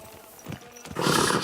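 A horse in Kingdom Come: Deliverance 2 whinnies and shifts on its hooves, a short burst of neighing and clopping that rises sharply halfway through.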